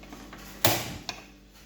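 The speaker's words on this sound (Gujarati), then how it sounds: "એની માટે ચાલુ કરીશું ગેસ" Gas stove being turned on in a home kitchen, a sharp click followed by a hissing whoosh of ignition, then a second fainter click, close and alone.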